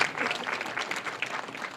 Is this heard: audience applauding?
yes